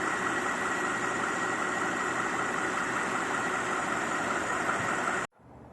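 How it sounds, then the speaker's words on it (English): A V12 car engine idles smoothly with an even, continuous hum for about five seconds before it abruptly cuts to quieter background. "That's how smooth a V12 is, which is pretty cool,"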